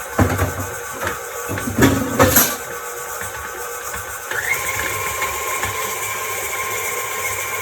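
A KitchenAid stand mixer creaming butter and sugar, a steady motor whir close by that shifts in pitch partway through, with a few clattering knocks near the start.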